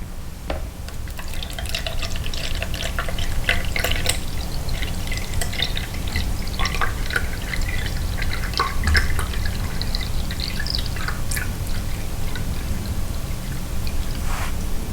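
Steady water pours into a container for several seconds during soap making, a continuous splashing trickle with scattered drips, close and moderately loud.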